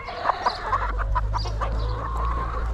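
Several free-range chickens cluck in short, scattered bursts over a steady low rumble, fairly close and moderately loud, with no talking.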